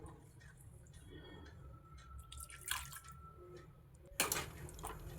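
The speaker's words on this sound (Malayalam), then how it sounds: "ആ ജാറിലേക്ക് കുറച്ചും കൂടെ വെള്ളം ഒഴിച്ച് അത് കഴുകിയിട്ട് ആ വെള്ളം കൂടെ ചേർത്ത് കൊടുക്കുക" Water is poured from a rinsed grinder jar into a pot of Kerala-style roasted-coconut chicken curry, giving soft drips and splashes with a louder liquid burst near the end, set against quiet kitchen background noise.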